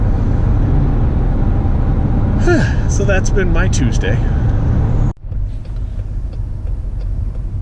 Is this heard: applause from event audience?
no